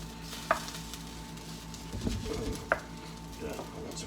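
Chanterelle mushrooms browning in a hot pan for chicken Marsala, giving a steady, soft sizzle broken by a few clattering stirs of a utensil against the pan.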